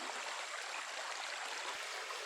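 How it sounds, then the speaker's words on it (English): Rowley Creek flows steadily beneath a small log bridge on a wooded trail, a continuous close rushing and gurgling of water with no voices. "Okay, made it to Rowley Creek."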